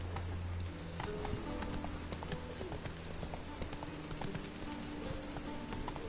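Roach the horse trots in The Witcher 3, a steady run of clip-clop hoofbeats heard close over a constant rain-like hiss, with game sounds mixed in.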